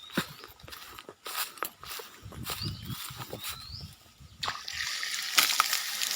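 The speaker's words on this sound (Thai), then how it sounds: "น้ำจะพุ่งแรงขนาดนี้ครับผม" Water gushes hard from the outlet pipe of a 48V submersible pump powered by two solar panels wired in series, a steady rushing spray with splashy bursts throughout and no speech.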